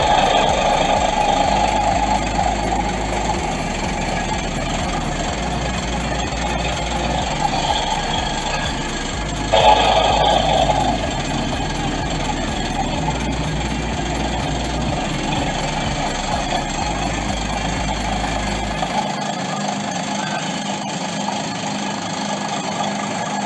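A Yanmar diesel engine runs steadily in a tugboat engine room, a loud continuous mechanical drone with low throbbing pulses and a brief metallic surge midway before the low rumble drops out near the end.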